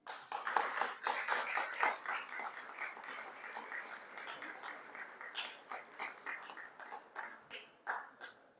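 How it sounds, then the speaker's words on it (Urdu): Audience clapping at a mushaira poetry gathering in Sharjah, UAE, starting as dense applause that thins out into scattered, separate claps toward the end. "آپ سب کی تالیوں میں ابرار عمر اسٹیج پر۔"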